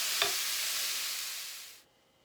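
Ground beef being fried and stirred in a frying pan for a chili casserole gives a loud, close hiss of sizzling with a single clink at the start, then fades and cuts off near the end, with no talking.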